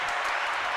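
A burst of canned applause and clapping fires from a soundboard button, dense and continuous for under a second, with no other sound over it.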